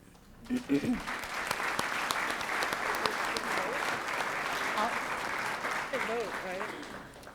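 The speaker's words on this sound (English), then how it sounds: "So it's kind of an awkward little clappy clap." Brief, polite applause from a small audience at a school district governing board meeting, a few seconds of scattered clapping in a large room that fades as a voice murmurs underneath.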